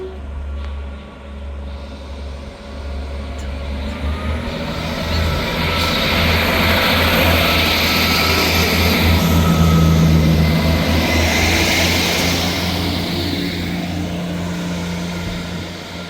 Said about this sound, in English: Departing out now is the 1543 Scotrail service from Dundee to Arbroath.